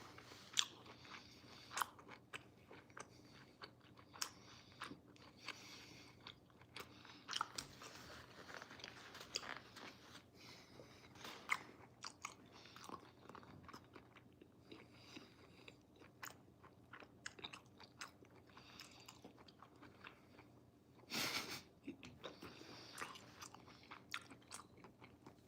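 Steady close-up chewing of steak, soft wet biting and crunching repeating through the whole stretch, with one louder burst near the end and no talking.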